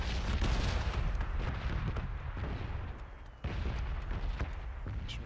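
Continuous rumbling barrage of explosions from a PUBG red zone bombardment, dense booming blasts rolling without pause, briefly dipping before another sharp burst resumes the loud, close onslaught.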